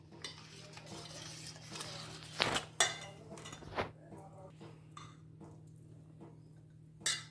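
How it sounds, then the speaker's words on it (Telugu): Wheat flour gradually worked into a mixture in a bowl for sweet pongadalu, giving soft scraping stirs and a few sharp clinks of spoon against the vessel, close and fairly quiet over a low steady hum. "ఇప్పుడు మెల్లిమెల్లిగా మనం గోధుమ పిండిని ఇందులో వేసుకుంటూ కలపాలి."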